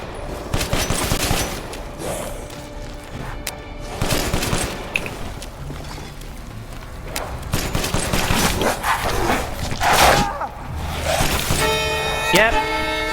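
Gunfire in a Resident Evil village, with repeated bursts of shots against a busy game soundtrack and what may be dog barks, while a voice talks over parts of it.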